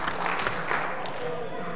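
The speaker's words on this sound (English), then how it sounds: "If you can hear me, clap 3 times." A room full of people answers with a few quick rounds of group clapping, soft and somewhat scattered, with a voice talking over it.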